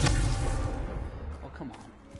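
A Confringo fire spell blasts in Hogwarts Legacy with a loud low boom at the onset that rumbles and fades over two seconds, while a voice speaks faintly beneath.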